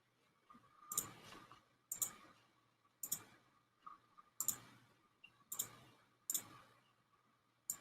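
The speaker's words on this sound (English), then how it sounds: "I'm just clicking off of it to get those things to go away" A computer mouse clicks sharply about once per second, seven crisp clicks in a quiet room, each followed by a faint soft rustle.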